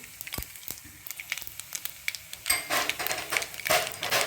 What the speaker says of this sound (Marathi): आता आपण मोहरी टाकू, जिरं टाकू, हिंग टाकू